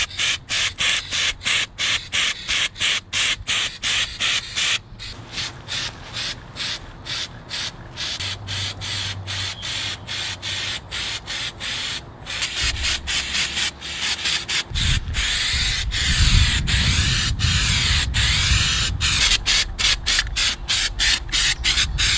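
Green paint, heavy flake, sprayed from aerosol cans onto a stripped and primed 670cc dragster chassis, heard as a long run of close, rapid hissing spray bursts in quick rhythmic pulses, with denser continuous spraying toward the end.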